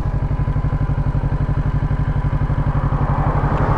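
Kawasaki Ninja 650 inline-two motorcycle idling close up, a loud, steady low thumping with an even rapid pulse that holds throughout.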